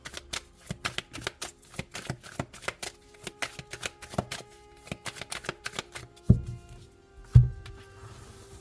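Tarot cards are shuffled in quick, crisp riffling bursts that repeat rhythmically, followed by two soft thumps as the deck is set down, with no talking.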